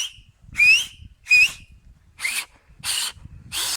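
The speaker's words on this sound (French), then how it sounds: "tu mets tes doigts sur ta langue et tu siffles" Someone tries finger-on-tongue whistling: five short bursts about half a second apart, the first two clear rising tonal whistles, the last three breathy, airy blows that barely catch a pitch, close up with faint background rustle.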